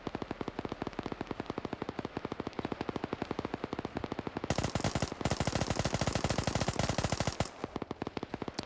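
Sustained automatic gunfire in a first-person PvP shooter match, with rapid, evenly spaced shots rattling for several seconds before a denser, louder burst follows and then cuts off.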